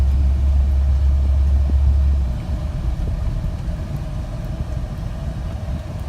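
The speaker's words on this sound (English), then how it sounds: "the truck runs great" A 1985 Chevrolet C10 pickup engine runs with a deep low rumble that is strongest for the first two seconds, then settles into a quieter steady idle-like drone.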